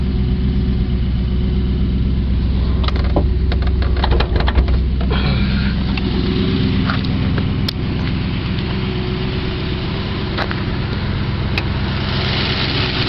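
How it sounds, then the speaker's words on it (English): Triumph Stag V8 engine idling on a warm day, a steady close mid-pitched running note with a few sharp clicks and knocks over it in the early part, no speech. "Here's the Triumph engine."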